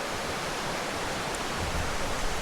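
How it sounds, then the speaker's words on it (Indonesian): A small waterfall at a hot spring park pours in a steady, broadband rush of falling water, constant and fairly close with no other sounds standing out. "ini kita lihat air terjun mini bagus"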